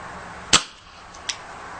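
A G&G G731 CO2 airsoft revolver fires a 0.20 g BB in single action: one sharp, loud pop with a short tail, then a fainter tick about three quarters of a second later, with no voices.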